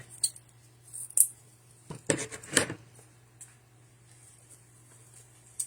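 Scissors snip a ribbon tail on a spring Easter lantern swag, several crisp close cuts in a short burst over a quiet room.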